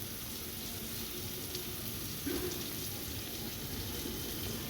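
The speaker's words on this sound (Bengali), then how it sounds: "এবার একটু কষিয়ে নেব সব বেগুনগুলো দিয়ে কষিয়ে নেওয়ার পর পরিমাণ মতো জল দিয়ে দেবো" Eggplant sautéing in a pan in a Bengali village kitchen gives off a steady, faint sizzling hiss that stays even from start to finish.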